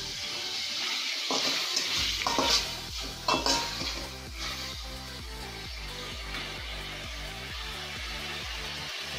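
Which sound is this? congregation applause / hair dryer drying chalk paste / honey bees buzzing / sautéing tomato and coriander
sautéing tomato and coriander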